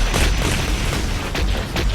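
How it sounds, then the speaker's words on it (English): Deep booming blasts from explosions in the video game Heavy Gear Assault, several rumbling bursts in quick irregular succession filling the whole clip. "I can't quite hear you over the explosions."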